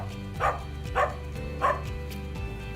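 A dog-barking sound clip played back through an audio announcement system, giving three evenly spaced barks over a steady low hum, with no talking.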